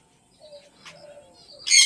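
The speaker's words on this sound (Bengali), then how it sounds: "পায়রা দেখুন এই উঠছে দেখুন" Pigeons taking off and cooing near a house in the afternoon, soft low coos and faint chirps in a quiet setting, ending in a brief loud burst of flapping wings.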